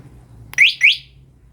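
An electric motorbike's anti-theft alarm chirps twice in quick succession, each a short, loud, rising electronic whoop, close by in an otherwise quiet setting.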